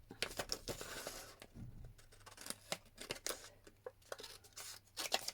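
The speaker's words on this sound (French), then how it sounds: "Allez, je coupe un peu plus." Scissors snip through a photocopied paper sheet in a quiet room, a string of brief, crisp cuts spaced irregularly, close and soft, with faint rustling between them.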